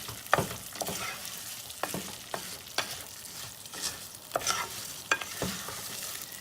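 Rice being stirred as it fries in plenty of oil on the stove for Spanish rice, with a steady sizzle broken by repeated scraping strokes of the spoon through the pan.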